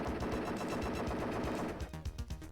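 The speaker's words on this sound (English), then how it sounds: "I have to apparently shoot the oil drums" Rapid gunfire in The Untouchables on the SNES, aimed at oil drums: a fast, loud, unbroken string of retro game shots that grows choppier near the end, with no one talking.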